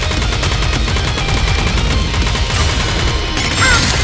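Rapid, continuous gunfire from the NIKKE: Goddess of Victory boss fight at Tribe Tower Floor 100, dense and loud from start to finish, with game effects layered over it.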